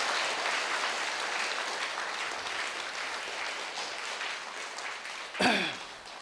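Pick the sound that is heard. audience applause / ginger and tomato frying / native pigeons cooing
audience applause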